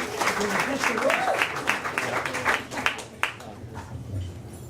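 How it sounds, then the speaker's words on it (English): Audience clapping greets a speaker stepping up to the microphone at a storytelling event, a dense burst of applause that thins and fades out, with a voice briefly speaking over it. "Round of applause, please."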